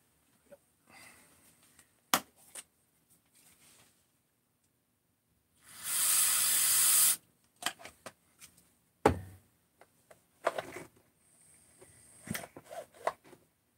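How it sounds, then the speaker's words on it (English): Aerosol can of brake cleaner sprayed during work on a Stihl 034 chainsaw, one loud, close hissing burst of about a second and a half amid quiet clicks and handling noises. "I'm not out of brake cleaner."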